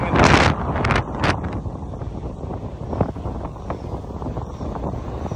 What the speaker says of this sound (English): Sand is blasting my ankles right now. That's how windy it is.